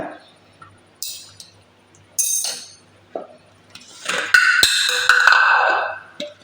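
A spoon clinks against a bowl while kalthappam batter, made with baking soda, salt and ground cardamom, is stirred. Sharp, separate metallic taps come at uneven intervals, with a louder burst of clatter and scraping near the end.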